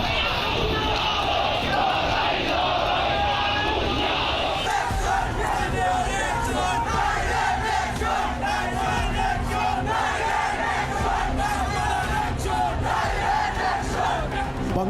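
A large, agitated street crowd in Bangladesh shouting slogans in unison, a dense roaring mass of voices that rises and falls continuously throughout, loud and close with no pause.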